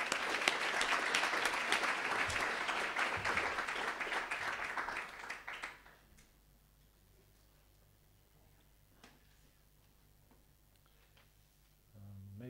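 An audience applauds to welcome architect Ben van Berkel to a school lecture, loud sustained clapping for about six seconds that then dies away into a quiet room.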